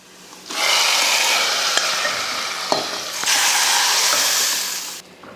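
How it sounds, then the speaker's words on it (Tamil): A tempering of mustard seeds, urad dal, shallots and curry leaves is poured into sambar and sizzles loudly for about four seconds. The crackle then cuts off abruptly. "இப்போ சாம்பாரில் ஊற்றிடலாம்"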